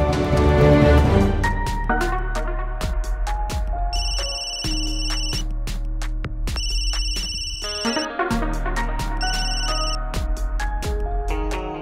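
A phone ringtone signals an incoming call at night, a loud, steady electronic melody of repeated bright chiming notes over a sustained low backing that plays alone for about twelve seconds.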